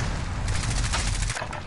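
M4 rifle gunfire in a video game, a dense burst of rapid shots with heavy low-end rumble running for over a second before cutting off, loud and close, with no talk.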